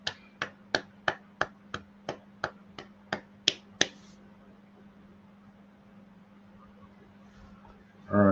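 About a dozen single sharp claps in a steady rhythm over four seconds, close and distinct, followed by quiet room noise and a brief loud sound at the end.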